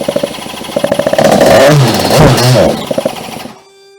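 A jetsurf's small two-stroke engine fires up after a service of its carburettor, fuel tank and throttle cable. It runs with a loud, revving buzz for a few seconds, then cuts out, leaving quiet.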